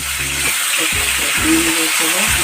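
Onion, green chili and tomato frying in oil for a fish curry, giving a loud, close, continuous sizzle and hiss, with a few low intermittent clunks of a pan or spoon underneath.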